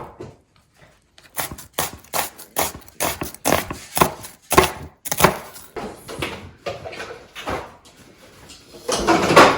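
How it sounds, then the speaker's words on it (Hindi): A kitchen knife chops tomatoes into small pieces on a wooden board, a fast, steady run of close, sharp knocks that builds up and ends in a louder flurry, with no talk over it. "मैं हमेशा छोटे छोटे काटती हूँ टमाटर को।"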